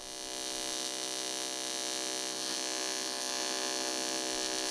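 A TIG welder running at 135 amps fuses the inner joints of a Triumph GT6 car body, giving a steady, loud electrical buzz with a fixed hum that carries unbroken through the whole stretch.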